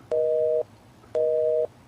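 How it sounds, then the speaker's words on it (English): Two long, steady tones of a telephone busy signal, each about half a second, separated by a matching gap, clear and alone over faint background hiss. "you literally had to pick up a phone and risk that busy signal"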